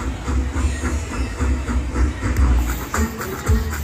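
Train effect from the All Aboard Go West slot machine game: a steady rumbling, chugging rail sound with hiss and rhythmic clatter, loud and continuous, no talking.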